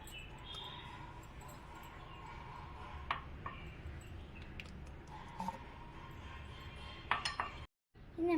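A mixing bowl handled in a home kitchen while pizza dough is prepared, giving a few faint, light clinks and knocks spread over a quiet background.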